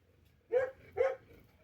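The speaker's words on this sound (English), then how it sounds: "there goes the fool pup back at it, chasing the rabbits or barking at the neighbors" A pup barks twice outside, each bark clear and moderately loud, about half a second apart, with faint yipping between the barks and a quiet background.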